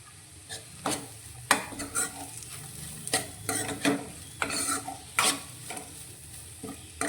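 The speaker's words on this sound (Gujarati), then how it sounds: "ત્રણથી ચાર મિનિટ જેવું આપણે શાકને આ રીતે ખુલ્લું સાતળી લીધું છે" Bitter gourd (karela) curry sautéing in an open pan: bursts of scraping and stirring strokes recur every second or so over a gentle background sizzle, close and without speech.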